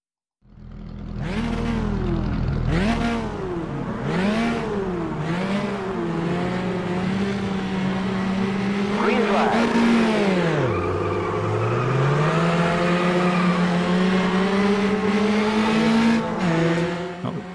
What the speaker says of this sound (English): The first thing to notice is just how good this car sounds.